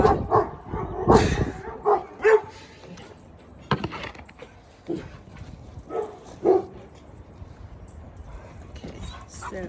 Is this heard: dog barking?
yes